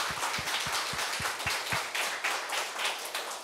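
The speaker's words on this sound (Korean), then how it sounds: "박수 한번 보내주세요." Steady applause from a church congregation during a Sunday morning service, a dense wash of clapping that continues throughout at moderate distance.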